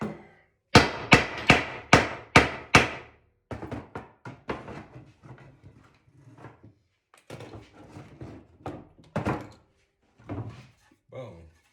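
A hammer taps a wooden frame while an art canvas is stretched: six sharp, evenly spaced strikes come close and loud, followed by a scatter of lighter knocks and handling noises.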